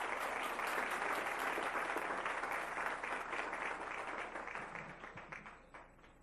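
A large audience at a school board meeting applauding steadily, dense clapping that holds strong for several seconds, then thins out and fades at the end.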